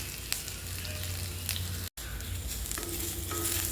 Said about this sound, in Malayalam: ക്യാപ്സിക്കം കൂടെ ഇട്ട് ഇത് നന്നായിട്ട് വഴറ്റിയെടുക്കണം.